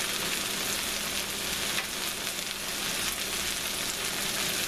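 Okra and green tomatoes frying in oil in a pan over medium-high heat, a dense, even crackling sizzle held close and loud with no voices.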